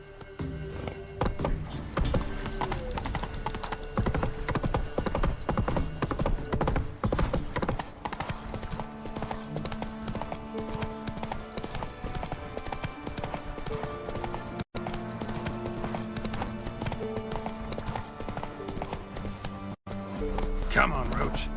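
Roach, the horse in The Witcher 3, gallops with rapid, continuous clip-clop hoofbeats that keep a steady rhythm throughout, with voices talking over them.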